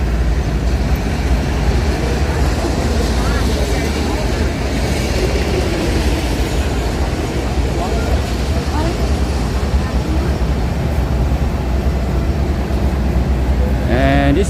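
A passenger train bound from Chumphon to Krungthep Aphiwat Central Terminal in Bangkok idles at a station platform, giving off a steady, loud rumble and broadband hiss, with faint voices murmuring underneath.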